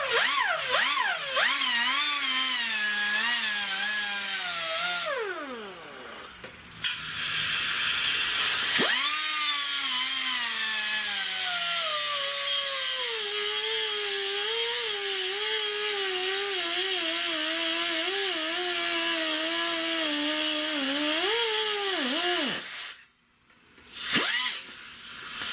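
A rotary tool's cutting wheel grinds through a small plastic welding tool, a loud high whine that shifts pitch as the load changes, with two short pauses where the tool spins down.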